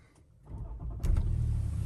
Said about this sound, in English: which was starting the engine